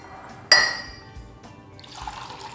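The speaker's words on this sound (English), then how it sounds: "And now you're ready to pour it in a mug." Pumpkin spice latte poured into a mug: a sudden splashing gush of liquid that fades over a second, followed by a soft trickle near the end, close and moderately loud with no talking.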